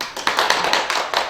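Brief burst of audience applause at a Korean talk event, a quick run of close, sharp hand claps lasting just over a second with no voices over it.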